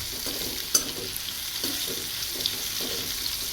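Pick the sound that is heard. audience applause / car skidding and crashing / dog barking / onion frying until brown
onion frying until brown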